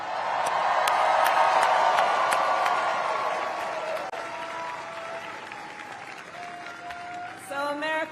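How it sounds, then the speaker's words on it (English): A large crowd at a political campaign speech breaks into loud sustained applause with scattered cheers and whoops, the clapping peaking early and then gradually thinning out, with faint voices rising near the end. "Can we all applaud our first-time voters?"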